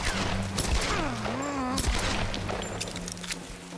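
Gunfire in the Tomb Raider 2013 video game: a sharp shot bursts out over a dense, busy game soundscape with music, whooshing effects and low rumble, fairly loud throughout.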